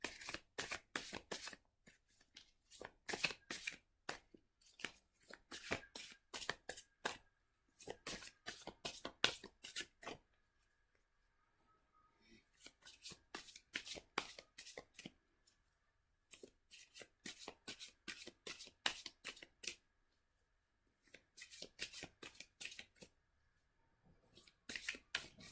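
Tarot cards being shuffled by hand in quick riffling bursts, crisp and close, repeating in clusters with short quiet gaps between rounds.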